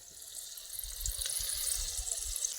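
Soft, steady hiss and crackle of dried red chillies sizzling in hot oil in a wok-like kadhai for tempering, faint and close with no voices.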